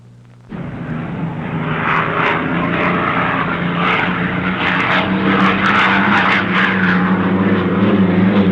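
A 1964 racing hydroplane boat on a time trial lap in Seattle roars in suddenly and holds a loud, steady, raspy engine drone with a strong low hum and gritty upper texture.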